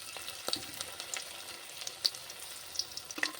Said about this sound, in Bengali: এখন তেলটা গরম করে এবারে চিকেনগুলো একটা একটা করে ভেজে নিতে হবে পকোড়ার